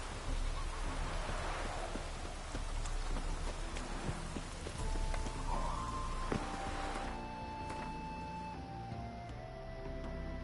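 Steady rain falls in The Witcher 3, a dense even hiss of drops on surfaces with faint scattered ticks, quiet and continuous throughout with no voices.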